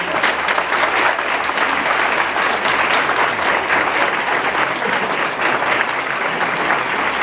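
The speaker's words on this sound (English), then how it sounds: "So again, let's give Dr. Parker another round of applause." Audience applause for Dr. George Parker III, new superintendent of Newport News Public Schools, a loud, dense and sustained clapping from a large crowd that continues evenly throughout.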